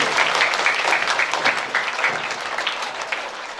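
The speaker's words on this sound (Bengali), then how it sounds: "সবাই জোরে করতালি দিয়ে" An audience claps loudly at a ceremony at a free primary school in Chunakhali, honouring a state environment minister. Dense, continuous applause fills the short stretch at an even, strong level.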